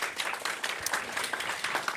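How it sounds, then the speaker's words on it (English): Audience applause at a book launch event for the anthology Moon Orchard, a steady wash of many hands clapping throughout, moderately loud and continuous with no break. "let's keep that applause going"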